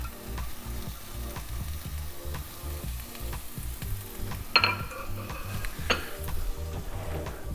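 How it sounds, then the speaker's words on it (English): Onions and peppers fry in a hot skillet with a continuous close sizzle, while a couple of sharp metallic clinks of a utensil against the pan stand out partway through; no speech. "So I got my skillet nice and hot. We're gonna go on with some onions and peppers."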